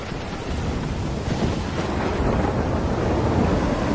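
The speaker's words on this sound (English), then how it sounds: "I'm trapped in a storm?" A thunderstorm rages in the video game Life is Strange, with a dense, steady roar of wind and rain and low rumbling thunder, loud and unbroken with no voices.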